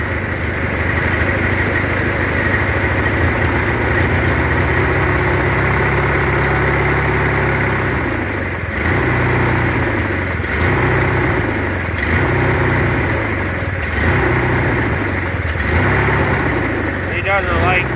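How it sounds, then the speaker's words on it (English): An MTD lawn mower engine idles steadily and loudly nearby, with its note dipping and surging several times in the second half as it struggles to hold idle. "Oh, it needs more choke to idle."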